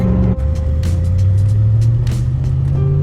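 A manual-swapped Audi A6 4.2 V8 climbing Loveland Pass, heard from inside as a loud steady engine drone that rises in pitch as it revs, under constant road and wind noise.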